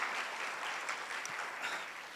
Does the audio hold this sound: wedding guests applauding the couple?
yes